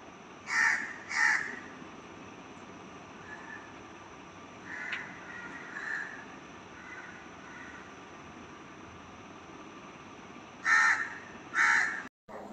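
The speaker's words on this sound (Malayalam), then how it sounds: "വെളിയിൽ കാക്ക നന്നായിട്ട് കരയുന്നു." Crows cawing outside at dawn, a few loud harsh caws in pairs near the start and again near the end, with softer distant calls between over a quiet background.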